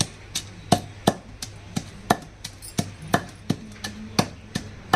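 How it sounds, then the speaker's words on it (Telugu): Large garlic cloves are pounded for a tomato-coriander chutney: a close, steady series of about sixteen sharp thuds, roughly three per second, with a pestle striking against a stone mortar and no talk. "పెద్ద పెద్ద వెల్లుల్లి రెమ్మలు ఇవి వేసి బాగా దంచాలండి"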